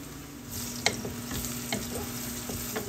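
Whole garam masala spices, cardamom, cinnamon, bay leaf and cloves, crackle and sizzle in hot oil, a soft steady frying hiss broken by a few sharp pops and stirring taps, close and quiet, no voices.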